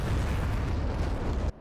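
A bomb dropped in the flight simulator DCS World explodes in a loud, dense, rumbling roar that holds steady, then cuts off sharply into quiet.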